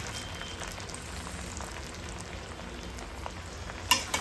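Mini idlis fry quietly in a pan, a steady soft crackle and sizzle like light rain, with a small clink near the end.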